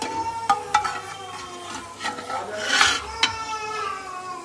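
Browned onions are scooped out of hot oil with a metal spoon, giving several ringing clinks and scrapes against the pan over a low frying hiss.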